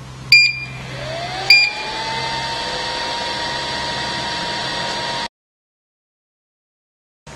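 A vacuum heat transfer press mug printer machine set to 200 degrees runs with a steady whirring hum and a rising tone that levels off, two short clicks near the start, then cuts off abruptly into silence.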